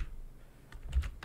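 Typing on a computer keyboard while writing Python code, a few soft key clicks spread across a short moment, with a couple of closer, louder taps near the end and no talk.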